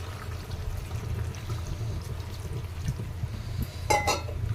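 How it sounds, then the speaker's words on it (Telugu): Water is poured into spiced chicken in a pan, a low steady gush with a brief clatter near the end, nobody speaking. "ఇప్పుడు సరిపడా కొన్ని వాటర్ వేసుకుందాం."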